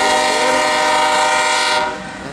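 CSX manifest freight train led by GE Evolution locomotives at Monroe Junction in Hamlet, a loud sustained horn blast close by that cuts off near the end.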